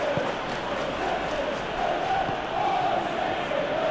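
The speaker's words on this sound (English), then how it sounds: "Crowd appreciates good football all round there." Stadium crowd at a Premier League football match between Manchester City and Arsenal, a steady dense roar of many voices that swells and ebbs slightly in the distance, with no clear speech.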